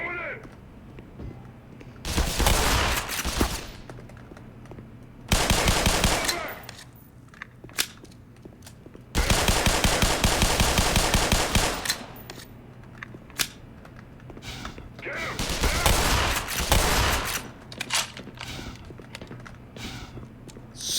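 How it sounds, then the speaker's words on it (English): Machine gun fire in Black Mesa, the Half-Life remake, with several loud bursts of rapid automatic shots separated by quieter gaps, someone talking in between. "Sick! We got a machine gun now."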